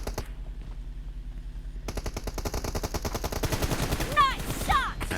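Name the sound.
gunfire in PUBG video game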